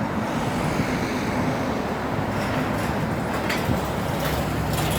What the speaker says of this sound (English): But still got the noise of the traffic